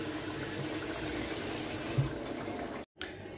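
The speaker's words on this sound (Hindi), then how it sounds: "मैं इधर पुलाव में डाला जा रहा है पानी।" Water pours steadily into a pot of pulao being cooked for iftar, a continuous splashing rush that cuts off abruptly near the end.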